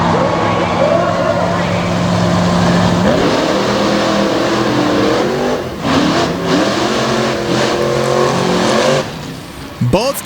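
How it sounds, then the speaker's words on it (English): Drag racing trucks launch and rev hard down the strip, loud engines climbing in pitch through several gear changes and fading near the end, with a commentator talking over them. "You saw Vowell lay on the throttle and just blow the tires off."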